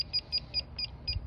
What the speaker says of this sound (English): it'll go down to zero and just do a small little beep